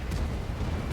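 A tank in a video game being struck by a shell, one brief deep rumbling impact blast with a dense low-end boom lasting about a second.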